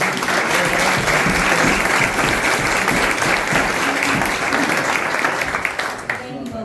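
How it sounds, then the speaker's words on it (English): Loud, sustained applause from an audience fills the room, then fades out near the end. "one more time, round of applause for Jeff."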